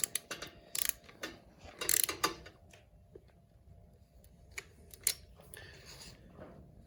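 A torque wrench tightens a bolt on a 2008 Hyundai Tiburon GS 2.0 engine during a timing belt job, giving sharp ratcheting clicks in irregular bursts close by, with quieter mechanical ticks between.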